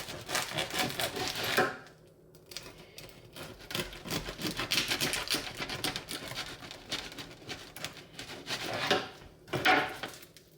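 A knife saws into a sourdough loaf, a close, quiet crackling and scraping of crust in several uneven bursts separated by short pauses.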